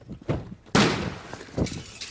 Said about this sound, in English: the officers, they hear the gunshot in a second